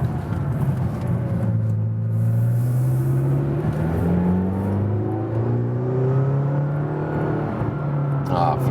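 A McLaren GT accelerating up a hill, its engine revving and rising in pitch through gears with a steady loud drone and whirring road noise, while someone talks inside the car.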